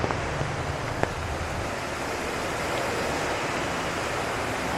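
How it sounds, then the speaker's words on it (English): Water rushing through a canal in Stromovka Park, Prague: a steady, dense broadband roar that stays loud and unbroken throughout, with no voices. "that's definitely the sound of water rushing"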